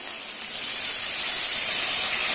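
Spice paste hitting hot oil with elephant-foot yam already frying, a loud, close, steady hiss of sizzling that swells after the first half-second and holds.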